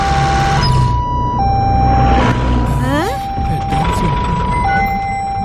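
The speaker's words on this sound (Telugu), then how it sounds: "ఇదేంటిది? అంబులెన్స్." A wailing ambulance siren rises and falls in steady two-tone cycles, loud and close, with people talking and shouting over it.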